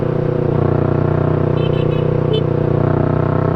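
A Yamaha R3 motorcycle fitted with an Akrapovic muffler runs close by with a steady, throbbing exhaust drone, holding an even idle-to-mid rev without pauses.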